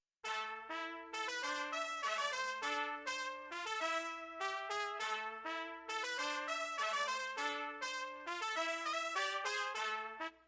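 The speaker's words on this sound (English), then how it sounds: "Obviously here we got the trumpet. I used the session horns contact bank" A bright sampled trumpet line from a Session Horns Kontakt library plays a repeating melodic loop, punchy stacked notes in a steady rhythm with no voices.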